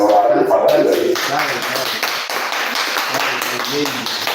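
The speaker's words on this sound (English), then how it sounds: "why you clapping?" Scattered hand clapping during a live Nigerian radio broadcast, light rhythmic claps running under continuous talk.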